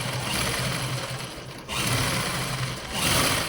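A sewing machine runs in fast, continuous bursts as it stitches lace onto the edge of a blouse's back neck, with a short pause between runs.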